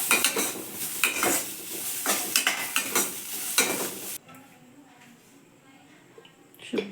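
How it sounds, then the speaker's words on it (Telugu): Sliced onions fry in a spoonful of oil for a Telangana-style fish curry, with brisk clattering stirs and sizzle for several seconds before it drops to a faint, quiet hiss. "ఉల్లిగడ్డలు 1 స్పూన్ ఆయిల్ వేసుకొని గోల్డెన్ కలర్ వచ్చిన దాకా"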